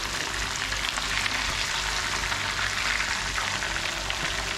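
Fish frying in a pan of hot oil for a Kerala-style fish molly, a steady, dense sizzle that stays loud and even throughout with no voices.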